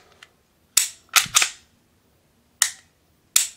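Dry-fire trigger pulls on a Canik TP9 SF Elite pistol with a Glock-style trigger safety: five sharp, close metallic clicks, a lone one, then a quick pair, then two more spaced apart.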